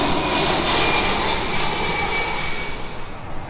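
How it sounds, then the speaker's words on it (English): A United Airlines Boeing 767 jet airliner from Newark passes at an airport with a loud, broad, steady engine roar that eases slightly toward the end. "United Airlines 767 from New York,"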